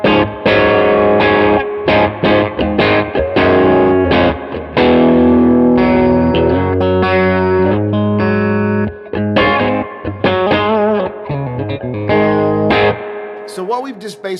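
Electric guitar plays through a Carr Super Bee tube amplifier set to a super reverb sound, loud and close, with chords and single notes ringing out with reverb and a slightly driven tone.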